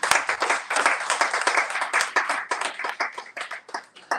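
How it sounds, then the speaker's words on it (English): Audience applause for panelists after a panel discussion on Black wealth, a fairly small group clapping close by in quick, uneven bursts of distinct hand claps that stay loud throughout. "Everybody give them a round of applause,"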